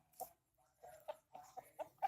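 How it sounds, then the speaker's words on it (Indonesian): Chickens in a coop sick with snort (snoring) disease, a series of quiet, brief throaty clucks and rasping calls recurring irregularly with short gaps, faint and close. "kandang ayam saya yang lagi tertimpa wabah snort atau ngorok pada ayam-ayam saya"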